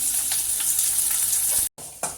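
Onions sizzle steadily in hot oil while cooking a Tamil ridge gourd kuzhambu, a bright crackling hiss that cuts out briefly and resumes, with no talk.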